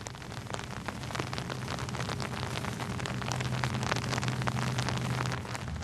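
Drizzling rain patters steadily at a graveside funeral in a cemetery, a dense, even hiss of fine drops with scattered louder ticks, close and continuous, no voices.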